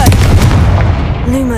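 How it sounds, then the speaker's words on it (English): Confringo blasting spell cast in Hogwarts Legacy inside a tomb: a loud, close blast with a rumbling low body that decays over a second, followed by faint tonal magical shimmer. "Likely I need to go further. Confringo!"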